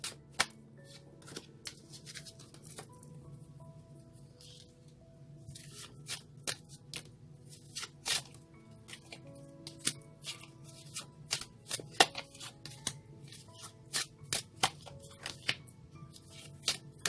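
Tarot cards are shuffled up close in a quiet room, producing repeated crisp riffling and slapping bursts with short pauses between them.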